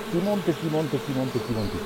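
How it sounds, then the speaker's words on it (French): Honey bees in swarming clouds buzz in a dense, wavering hum, with individual insects rising and falling in pitch as they pass close by, continuous throughout. "tu vois des nuages d'abeilles dans le rayon du soleil qui montent"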